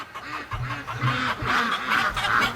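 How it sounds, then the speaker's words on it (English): Free-range ducks in a flock call near a farm, with repeated quacking and chattering bursts that rise in a steady rhythm, close and fairly loud. "Hello, ducks. What are you guys doing back?"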